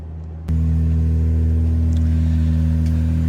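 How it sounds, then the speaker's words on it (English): A truck with a Flowmaster Outlaw exhaust cold-starts outside a garage and is heard from inside the house: after a quiet moment the engine catches sharply and settles into a loud, steady, droning rumble. "So it is definitely very loud when you cold start it"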